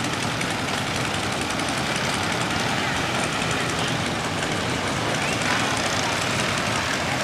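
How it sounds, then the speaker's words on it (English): Police motorcycles riding past on a brick street in a parade-like procession, a dense continuous engine rumble and roar filling the scene without pause. "Motorcycle cops!"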